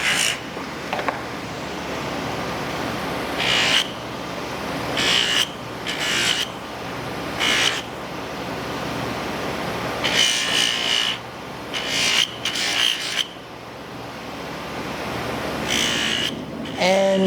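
A belt grinder running an 800 grit belt sands a knife blade with repeated passes, the abrasive hiss swelling in short bursts of a second or so and easing between strokes against a steady motor hum.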